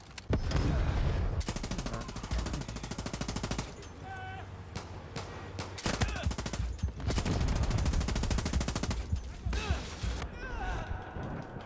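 Rapid bursts of automatic gunfire in the Far Cry 6 video game, loud and near, nearly continuous with brief pauses, mixed with game sounds and someone talking over the shooting.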